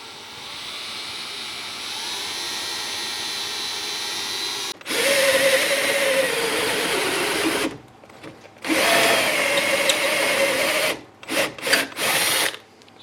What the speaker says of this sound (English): And drill away.